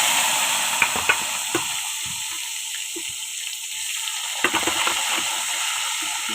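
Eggplant pieces lightly frying in oil in a pan give a steady, close sizzle, broken by scattered sharp clicks and scrapes of a utensil against the pan.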